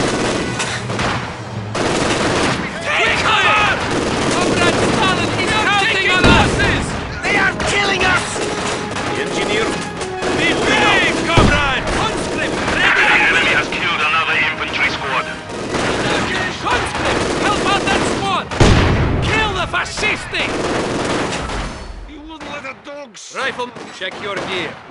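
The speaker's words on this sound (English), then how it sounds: "I hate machine guns!" Dense machine gun bursts and rifle fire in a Company of Heroes 2 battle, loud and continuous with booming explosions, under shouted voices throughout.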